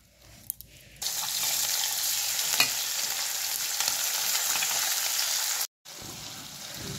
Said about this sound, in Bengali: তারপর চলুন এটাকে আমরা প্রথমে ভেজে নিই